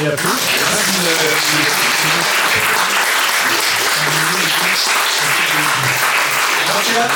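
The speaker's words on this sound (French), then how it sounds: "Et il applaudit," Audience applause at a talk, dense and continuous clapping filling the whole stretch, with voices and crowd murmur mixed underneath.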